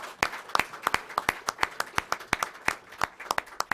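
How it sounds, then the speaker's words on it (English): A small audience gives a brief round of applause at a conference on landscape restoration, sparse individual claps sounding near and distinct in an uneven patter rather than a dense roar, with no talk over it. "if we could have a quick round of applause for Tom"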